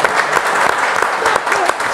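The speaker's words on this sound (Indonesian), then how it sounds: "Tepuk tangan yang meriah." Congregation applauding at a church's 20th anniversary service in Yogyakarta, a loud, continuous burst of many hands clapping together with sharper individual claps standing out.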